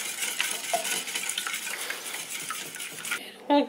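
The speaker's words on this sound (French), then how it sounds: "je vais commencer à mélanger un peu déjà le sucre et les blancs d'œufs" Sugar and egg whites are stirred in a bowl, giving a continuous close scraping and clinking of utensil against the bowl that ends with a brief sharper knock.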